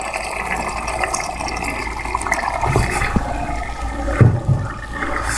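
A quarter cup of oil poured into cooking mutton with potatoes, giving a continuous close liquid rush and splashing with a brief louder burst near the end.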